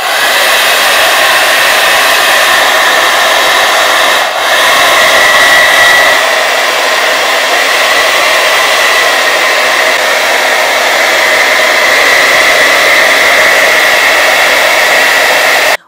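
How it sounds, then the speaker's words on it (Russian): A BaByliss Expert 2300 hair dryer blows loudly and continuously, with a brief dip and shift in its whooshing tone as it switches between speed settings, running on without other sounds. "Давайте же включим фен и протестируем, как он работает."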